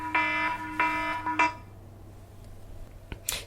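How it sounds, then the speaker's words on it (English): An electronic alarm on a delivery work device gives a one-hour warning before the delivery window opens. It sounds as three bright, steady tonal beeps in the first second and a half, followed by quiet background. "there's the alarm saying, hour warning before the window opens"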